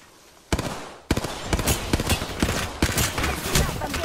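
Heavy gunfire hitting the player in the video game Apex Legends: a dense, loud barrage of rapid shots and impacts starting abruptly, with a short pause before it resumes and keeps going without letup.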